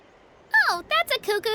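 A bird creature calls in the video game Genshin Impact, a series of bright, chirpy whistled notes rising and falling in quick bursts, loud and close, with no talk over it.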